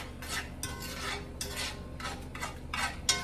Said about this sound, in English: So you just kind of mixing it up